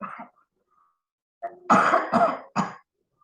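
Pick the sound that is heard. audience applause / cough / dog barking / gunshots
cough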